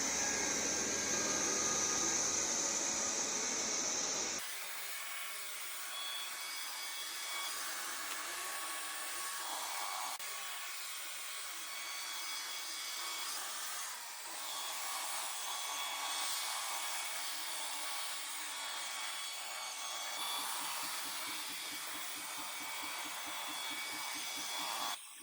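A Xiaomi Mi G1 robot vacuum cleaner runs with a steady, close whirring hum. A louder, harsher blowing phase comes first, then the hum settles lower for the rest of the run.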